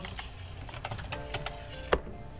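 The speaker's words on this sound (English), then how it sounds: "So log into your Metamask wallet by typing your password." Someone types a password into a Metamask wallet on a computer keyboard, a run of light, fairly quiet key clicks with one sharper keystroke near the end, nobody speaking.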